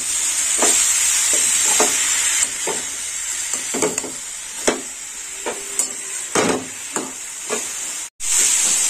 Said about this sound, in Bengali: ঘি গরম হয়ে গেছে, এবার বাঁধাকপিটা দিয়ে দেবো। দিয়ে দিলাম বাঁধাকপি। বাঁধাকপিটা একটু ভেজে নেব।